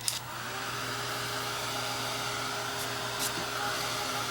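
A hair dryer blows steadily and close on fresh acrylic paint, a constant breathy roar with a low motor hum running the full length without pause.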